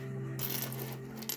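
Metal coins, a quarter, nickel, dime and penny, clatter onto a hard surface in a short close jingle of light clinks, with no talking.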